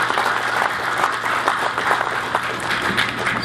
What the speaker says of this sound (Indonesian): Kita kasih aplaus kepada Pak Hendy dan teman-teman.